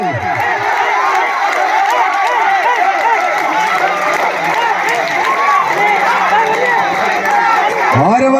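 A crowd at a Kerala shoulder-style tug of war match keeps up dense cheering, shouting and clapping, a loud, continuous roar of many voices close by with no break.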